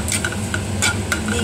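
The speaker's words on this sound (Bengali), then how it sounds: "একটু ভালোভাবে নেড়ে চেড়ে এটাকে নামিয়ে নেব।" A spoon or spatula stirs fried rice ingredients with pepper in a hot frying pan, giving close scraping strokes in an irregular rhythm over a continuous low sizzle.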